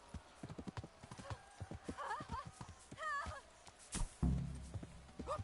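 In the medieval game Kingdom Come: Deliverance, horse hooves clop steadily on the ground at close range. A couple of whinnies break through, a heavy thud lands near the end, and a voice speaks in the background.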